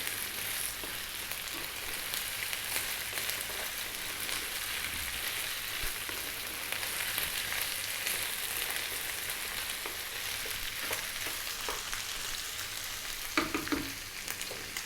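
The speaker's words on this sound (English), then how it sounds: "continue mixing the pan for another 3 minutes" Potato and cauliflower curry stirred in a frying pan, a continuous loud sizzle with soft scraping of the spoon throughout, close up and without talk.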